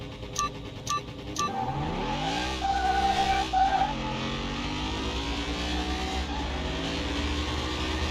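A race car in Car Mechanic Simulator 2021 runs against an Audi sedan, its engine revving and shifting through rising and falling pitch sweeps. A few sharp clicks come first, then a steady, loud engine drone with no speech.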